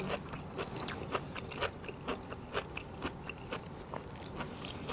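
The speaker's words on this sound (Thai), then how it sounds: "มันจะกรอบครับ เวลาเขาย่ำมันจะกรุบกรุบกรุบเลย" Close, steady crunching and chewing of a crisp Thai salad made with pounded wild bamboo shoots, with rhythmic crisp bites and soft scraping repeating throughout and no talk.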